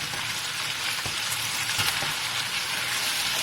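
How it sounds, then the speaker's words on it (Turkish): Chicken sautéing in a pan with sugar, a steady loud sizzle and frying crackle filling the whole stretch, with occasional stirring scrapes and no talking. "Bakın şu şeker kızarıncaya kadar ben kavuruyorum. Eti soteliyorum."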